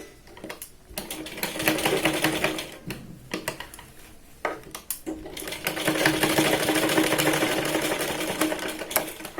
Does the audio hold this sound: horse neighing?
no